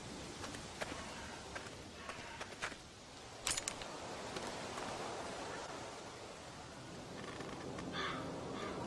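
Crow caws ring out in The Walking Dead video game, a few sharp calls over a quiet outdoor ambience with faint rustling and footsteps.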